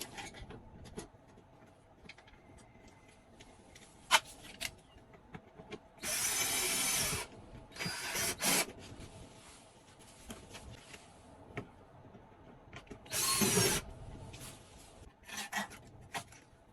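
A hand tool works a bolt while mounting an RV air conditioner, giving short scraping, rasping bursts of a few seconds each separated by quiet pauses, close and fairly loud over a faint background hum.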